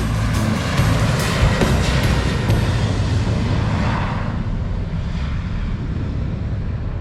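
A fixed-wing aircraft taking off in the Pacific islands of Micronesia, its broad roaring engine noise loud and steady at first, then slowly fading as it pulls away, with wind buffeting the microphone.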